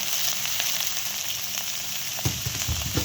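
Pointed gourd (potol) fries in oil with crushed garlic in a pan, giving a steady close hiss of sizzling throughout, then low scraping stir sounds join in near the end.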